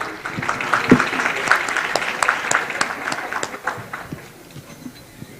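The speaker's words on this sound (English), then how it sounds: "So please join us in applauding them" Applause at the Cumberland County Legends celebration for the honorees, uneven clapping with individual sharp claps standing out, fading toward the end.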